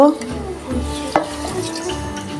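Puti fish is stirred and mixed with chopped green chilli, onion paste and spice paste, producing close, wet squelching and scraping strokes with a sharp knock partway through.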